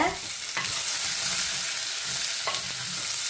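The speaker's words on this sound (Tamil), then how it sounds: "இப்போ பார்த்தீங்கன்னு சொன்னால் பைத்தங்காய் வந்து நல்லா வதங்கிடுது பாருங்க" Long beans sauté in a pan for a curry, giving a steady bright sizzle with a few sharp stirring scrapes, close and continuous, with no voices.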